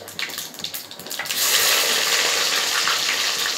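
Onions, garlic and curry leaves drop into hot oil where mustard seeds have already popped, bursting into a loud, dense sizzle after a brief quieter start, then frying steadily.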